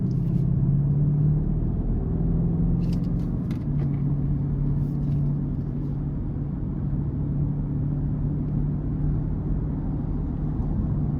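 A 2020 BMW X7 M50i in Sport Plus mode drives onto an interstate, its engine a steady low rumble under road and cabin noise, with a few faint clicks.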